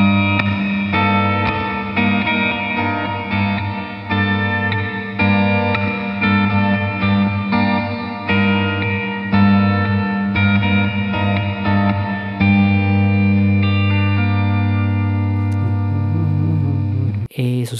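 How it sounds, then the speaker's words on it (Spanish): A bossa nova arrangement of a song plays on acoustic guitar with reverb added in post-production, its strummed chords ringing loud and washed out for about seventeen seconds before they stop. "si le agrego un poco de reverb en edición, en postproducción, va a sonar de la siguiente manera"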